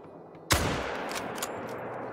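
A rifle shot fired in the hunting game Call of the Wild: one sudden loud crack followed by a long rumbling echo that fades slowly, with no talking.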